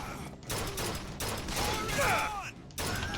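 Guns fire in BioShock Infinite, sounding as close bursts of rapid shots separated by brief gaps, with mechanical clatter and a short whistling tone over the loud game audio.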